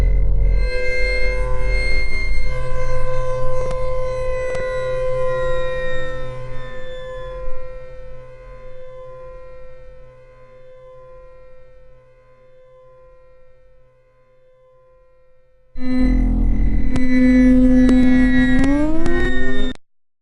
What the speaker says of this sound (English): a sound which doesn't want to stop after getting a MIDI note off message and seems to go on and on and on endlessly